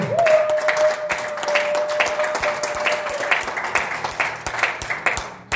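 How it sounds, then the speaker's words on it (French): A church congregation claps and applauds in praise during a French-language worship service, a steady broadband patter of many hands with a sustained sung or shouted tone over the first few seconds. "Est-ce que quelqu'un peut m'aider à acclamer très bien le Seigneur?"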